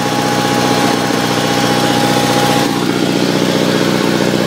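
A 1974 Sears Suburban SS16 garden tractor engine idles while warming up, a loud steady close-up chug with an even rumble and a faint whine that fades partway through, no talking.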